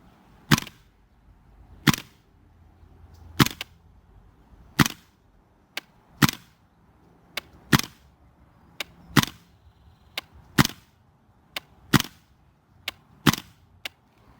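KWA LM4 airsoft rifle firing on semi-auto, about a dozen sharp single shots spaced at a fairly even pace of one every second or so, close and crisp.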